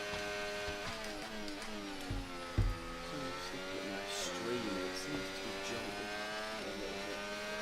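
A race car's engine whines steadily on a Jeddah street circuit, its harmonic pitch sliding down and up through gear changes, with brief thumps and a commentator talking over it.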